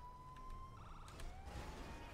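Wailing ambulance siren in the GTA video game, a steady rising-and-falling tone heard alone at moderate distance over a low rumbling traffic and engine bed.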